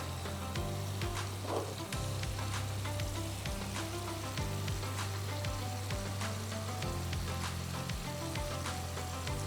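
Fried okra sizzling in a pan of chicken karahi, a steady hiss of hot oil with soft crackles and occasional stirring scrapes, heard close and alone.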